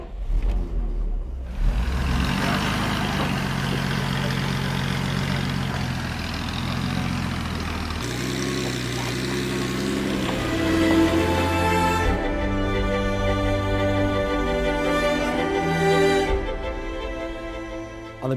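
A 1954 Mercedes 300 SL fires up and settles into a steady, loud idle, its engine note holding continuously with slight shifts in pitch as it runs alone.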